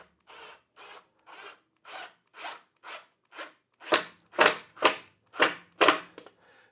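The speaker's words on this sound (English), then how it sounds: "I'm going to put a screw in the bottom here, and I want to make sure I put pressure on there" A screw being driven into the bottom of a table saw miter jig fence with a hand screwdriver, a series of about twelve rhythmic ratcheting turns, each a short rasping burst, growing louder and sharper toward the end.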